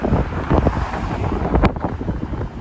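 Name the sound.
strong wind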